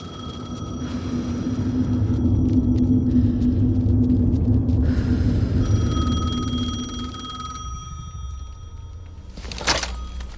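A telephone in Alan Wake 2 rings in repeated bursts over a deep, swelling rumble, followed by a quieter stretch and a sharp thump near the end.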